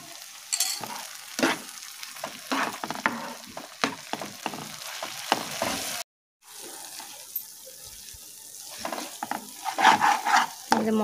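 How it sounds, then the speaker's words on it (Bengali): Thick paste of ground cashew, rice, melon seed and poppy seed frying with Kashmiri chili powder for a vegetarian paneer butter masala, with repeated scraping stirs and soft sizzling, a brief break midway, then steady stirring again. "এবার আমরা আরেকটা মশলার পেস্ট দিয়ে দেবো, কাজু, চাল, মগজ আর পোস্ত বাটা।"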